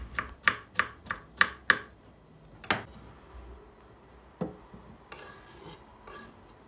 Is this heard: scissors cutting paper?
no